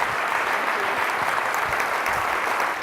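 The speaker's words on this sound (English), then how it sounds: "Please give a big round of applause to the Honourable Gladys Berejiklian" A large audience at a business summit in New South Wales applauds the state Premier, a thick, even roar of clapping that stays full throughout.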